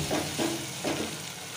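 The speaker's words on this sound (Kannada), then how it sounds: "ಇವಾಗ ಅದನ್ನು ಫ್ರೈ ಮಾಡ್ಕೊಳ್ಳಿ." Chicken curry masala with freshly added coriander paste frying in a pan, a steady close sizzle broken by three short stirring scrapes.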